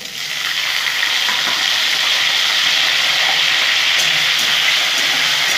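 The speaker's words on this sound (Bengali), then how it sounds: "আলুগুলো ভেজে নেবো।" Potatoes frying in hot oil for a foloi fish curry, a loud steady hissing sizzle that holds evenly throughout, close up, with faint occasional stirring taps beneath.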